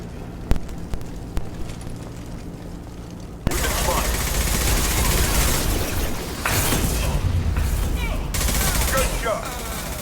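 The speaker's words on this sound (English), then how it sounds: "Blue Suns and Vorcha are shooting anything that moves." Blue Suns mercenaries and Vorcha trade gunfire in Mass Effect 2, first as a few isolated shots over quiet ambience, then as a dense, loud barrage of rapid fire and impacts that fills the rest.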